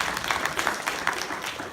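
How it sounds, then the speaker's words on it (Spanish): A church congregation applauds in a dense, continuous wash of many hands, loud and close, with small swells through the short burst. "le damos un aplauso al Señor por la vida de ella"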